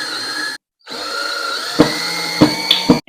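A wall anchor expands behind a toilet paper holder or towel rack as a power driver whines steadily, with a brief pause, then three sharp, close cracks snap out over the motor near the end.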